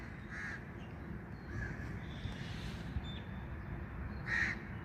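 Crows caw outdoors in the early morning, a couple of clear calls at the start and end with fainter caws between, over a low steady background rumble.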